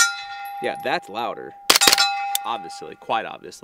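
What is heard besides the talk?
bullet hitting a steel target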